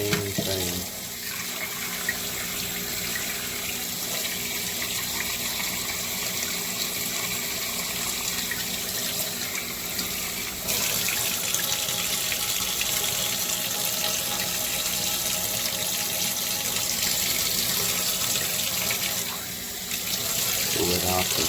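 Cold tap water runs steadily through a thermostat housing from a 2008 Audi TT, a continuous close hiss and splash that shifts slightly in tone partway through.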